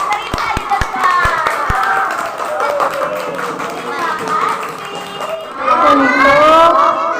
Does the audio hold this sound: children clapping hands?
yes